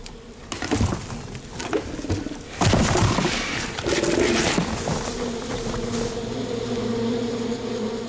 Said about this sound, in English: the bees are not too thrilled about the interruptions